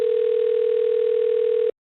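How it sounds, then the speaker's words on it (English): A steady, unbroken telephone dial tone holds for nearly two seconds, clear and alone, before cutting off abruptly at the start of a recorded phone call. "This is a phone call between Burke and a political contact in Texas named Rodney Ellis"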